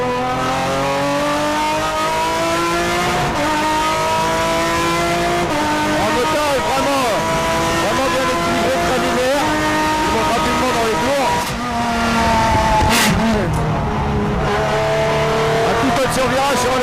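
A Renault Megane 2 RS Trophy engine revs and shifts through gears on a track, loud and sustained, rising and falling in pitch, with a voice talking over it.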